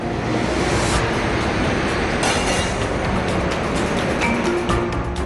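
Shramik special passenger train running on rails in India, a loud continuous rumble and rattle with a few sharper clanks that stays constant throughout.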